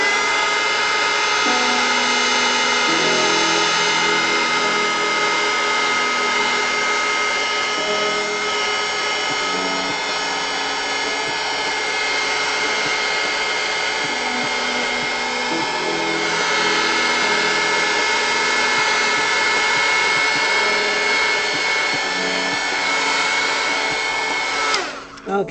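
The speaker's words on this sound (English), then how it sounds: "Now I'm going to use my hot air gun to dry this." A hot air gun drying crayon coloring on paper, a steady loud blowing whir held continuously for about 25 seconds, then cutting off abruptly at the end.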